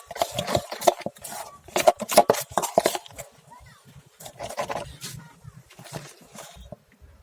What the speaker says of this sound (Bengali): সবগুলি মশলা দিয়ে ভালো করে মিক্স করে নেব